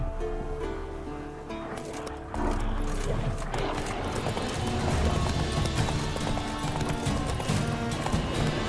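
Roach, the horse in The Witcher 3: Wild Hunt, with hooves clip-clopping at a slower pace that then picks up into a louder, steady gallop, close up, with game ambience and rustling underneath.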